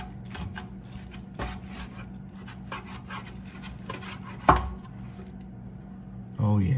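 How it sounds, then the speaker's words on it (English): A knife saws through smoked brisket for the Fourth of July, soft rhythmic rasping strokes with a sharper scrape near the end, heard close up with a low background hum. "And we're just gonna start making our slices."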